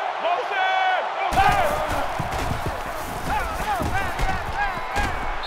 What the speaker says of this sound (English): It's arguably the loudest crowd in the nation,